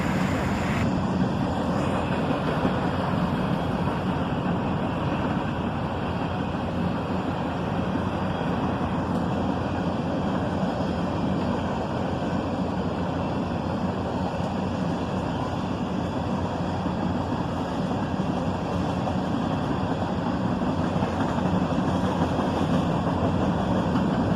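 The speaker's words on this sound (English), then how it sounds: "This unit train is a covered hopper train heading south." A southbound unit train of covered hoppers on the CSX line rolls past, led by a BNSF ES44C4 with an SD70 Mac trailing, giving a loud, steady rumble that holds without a break throughout.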